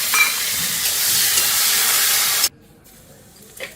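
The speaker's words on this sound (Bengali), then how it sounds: "জিরে ফোড়ন দিয়ে দিলাম" Cumin seeds sizzle loudly in hot oil as a tempering for a Bengali home-cooked meal, a dense steady hiss that cuts off abruptly and is followed by a quieter pause.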